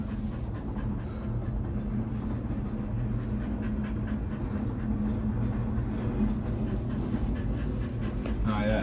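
A freight train in Mexico rumbles past nearby as a steady low rolling roar, with faint rattling and clanking over it, holding at a constant level throughout.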